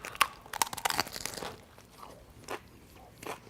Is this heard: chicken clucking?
no